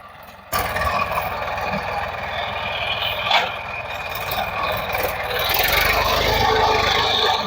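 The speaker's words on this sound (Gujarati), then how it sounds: "ટ્રેક્ટરનો અવાજ આવતો હોય કદાચ" A steady tractor engine rumbles nearby, running continuously with a low droning hum that grows slightly louder toward the end.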